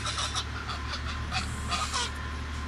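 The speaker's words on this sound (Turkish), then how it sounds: "Ördekler. Kazlarımız" A flock of ducks and geese on a livestock farm calls in bursts of honks and quacks, overlapping at moderate distance over a steady low hum.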